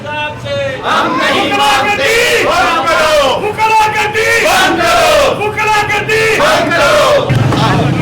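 Journalists chanting slogans in unison at a protest rally marching from a press club to a city square in Narowal, Pakistan, loud rhythmic call-and-response shouts from a close crowd, repeated in bursts without pause.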